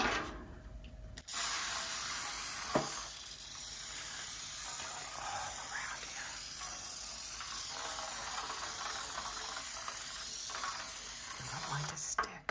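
Pam cooking spray hisses into a baking pan for brownies in one long continuous spray lasting about ten seconds, close and fairly quiet, with a faint click at the start and end.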